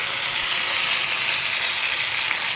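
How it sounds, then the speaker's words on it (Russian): Eggplant pieces fry in oil in a pan, a steady, close hiss of sizzling with a soft crackle, even throughout and free of any speech. "А там у меня баклажаны жарятся, слышно."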